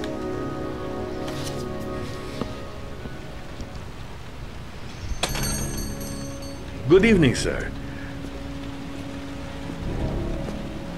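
Steady rain falls in the video game Heavy Rain, a soft continuous hiss beneath a game soundtrack, with brief speech breaking in partway through.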